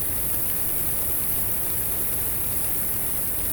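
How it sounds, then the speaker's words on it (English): Millions of Mexican free-tailed bats emerging from a cave make a dense, steady fluttering roar, like rain on a tin roof, constant and unbroken with no voices. "you start hearing the fluttering of all their wing beats. It gets louder and louder and louder."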